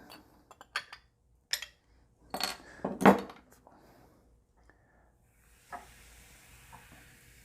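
A can of Indian tonic water is cracked open: a few small clinks and handling taps, one sharp louder pop, then a faint, steady fizzing hiss close by.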